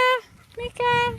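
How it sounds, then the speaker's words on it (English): A dog whimpers indoors in a dim room, giving two or three high, thin whining cries with short gaps between them, close by and fairly loud. "Here's my dog. Maybe you could see my dog."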